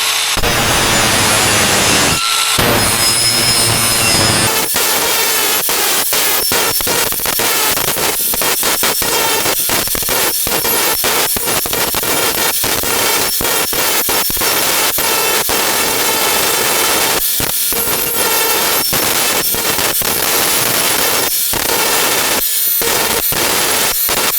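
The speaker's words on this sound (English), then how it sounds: "So I cut out the shape with the grinder, and now I'm gonna pop it out with the rest of this blade." An angle grinder cuts a shape out of metal for a homemade barbell jack, a loud harsh continuous whine and scraping roar up close, interrupted by a few short breaks.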